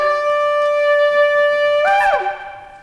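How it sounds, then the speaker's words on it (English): A sustained, brassy shofar ram's horn blast holds a steady pitch, then breaks upward into a wavering, rising call before cutting off abruptly. "That's the sound of the ram's horn."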